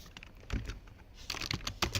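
Typing on a computer keyboard during a software development class: irregular bursts of quick, crisp keystrokes, close and fairly quiet, with no one talking.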